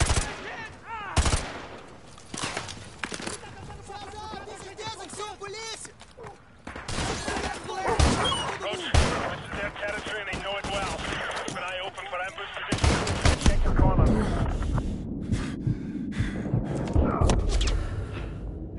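Rapid automatic gunfire and overlapping bursts of shots from the Call of Duty: Modern Warfare 2 Remastered campaign, loud and near, with heavy thumps and occasional voices in between.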